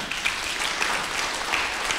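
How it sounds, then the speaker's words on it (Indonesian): Applause from a church congregation, steady and moderately loud, lasting a couple of seconds with no talking over it. "Tepuk tangan bagi Tuhan"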